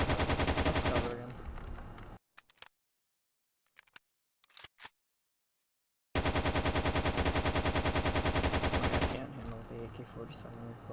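AK-47 firing in Vic's Modern Warfare Mod, two long loud close bursts of rapid automatic fire separated by near silence with a few clicks and handling noises.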